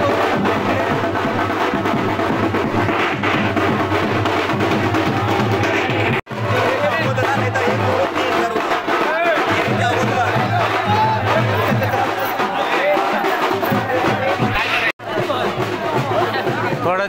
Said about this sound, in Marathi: अशी भाविकांची गर्दी अगदी तुफान.